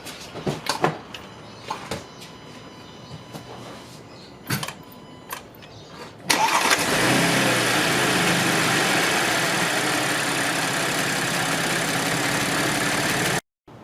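An Audi C7 A6 with the 3.0T engine is started after some scattered clunks and handling noises; it cranks and catches with a sudden loud burst, then settles into a steady, even idle that continues until it cuts off abruptly near the end.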